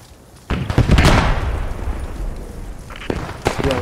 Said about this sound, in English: what's that explosion? Are we getting mortared?